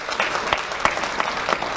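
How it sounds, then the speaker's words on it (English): Applause from an awards-ceremony audience, a brief stretch of steady clapping with a few sharper individual claps standing out. "So let's give a round of applause to Lieutenant Sylvester Smalls."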